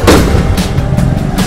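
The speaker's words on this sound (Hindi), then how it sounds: "बस आतिशबाजी शुरू हो चुकी है" Fireworks burst during a Ram Mandir celebration: loud, booming explosions one after another, about four sharp blasts in quick succession over a constant crackling rumble.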